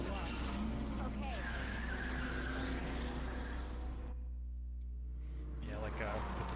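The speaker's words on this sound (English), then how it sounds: "like with the tires screeching" Car tires screech in the Resident Evil 2 video game on Nintendo 64, a loud sustained skid over engine roar that cuts out abruptly near the end.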